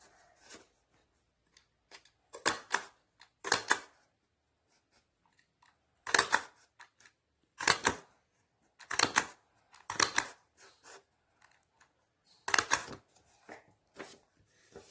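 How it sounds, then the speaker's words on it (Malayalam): A handheld paper hole punch punches holes into a paper craft star, a run of sharp crunching clicks in small clusters with brief pauses between, close and fairly loud, with no talking. "ഇത് കൂടുതൽ ഭംഗിയാക്കുന്നതിന് വേണ്ടി നമുക്കിതിൽ ഹോൾസ് ഇട്ട് കൊടുക്കാം. അതിനായിട്ട് പഞ്ചർ എടുക്കാം."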